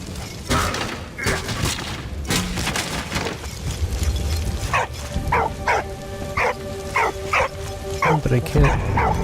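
A dog barks repeatedly in the Valiant Hearts video game, a run of regular, evenly spaced barks coming through the second half over game music and ambience, with a voice speaking earlier.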